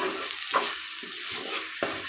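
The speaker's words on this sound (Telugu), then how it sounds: "ఇప్పుడు వీటిని ఒకసారి కలుపుకొని" Dal rasam with coriander powder is stirred in a hot pan, giving a steady close sizzle broken by several soft spoon scrapes and no talk.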